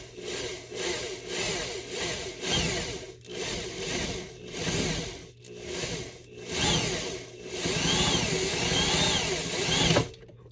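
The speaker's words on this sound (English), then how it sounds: "But we're going ahead and drill it." A drill bores out a primer pocket on a stuck cartridge case in a reloading die, a grinding, whirring sound that swells and fades in uneven bursts with brief pauses, close and fairly loud.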